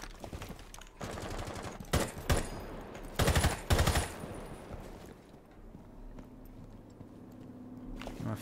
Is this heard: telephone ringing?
no